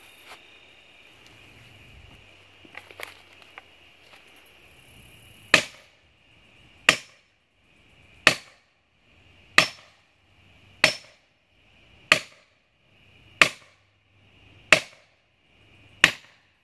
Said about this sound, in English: I thought I would go get a bigger hammer for you